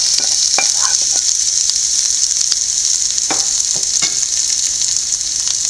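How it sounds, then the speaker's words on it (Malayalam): Mustard seeds, grated coconut and green chili frying in hot oil, a loud, dense crackling sizzle throughout with occasional sharp pops and spoon scrapes, close up and alone. "എണ്ണ ചൂടായിട്ടുണ്ട് നമുക്ക് ആവശ്യത്തിന് കടുക് ഇട്ട് കൊടുക്കാം നമുക്ക് തേങ്ങ ഇട്ട് കൊടുക്കാം തേങ്ങയും പച്ചമുളകും കൂടി ഇട്ട് കൊടുക്കാം"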